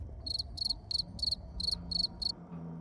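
A cricket sound effect plays as a crisp, high chirp in seven short evenly spaced pulsing bursts, clear and alone over a low background hum.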